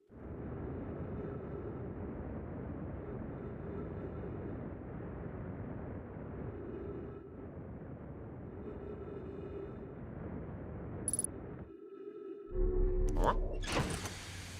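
A spaceship in the game Outer Wilds drones with a steady, muffled engine hum for about eleven seconds, then cuts to brief sharp mechanical clanks and a louder burst of noise near the end.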